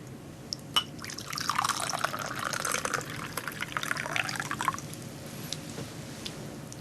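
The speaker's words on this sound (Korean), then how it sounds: "이 차 따르는 소리가 참 아름다워서 이 소리를 들려주고 싶은데" White tea pours from a pot into a cup, a thin liquid trickle rising after a brief clink and running for several seconds before tapering off, with faint room noise and no talk.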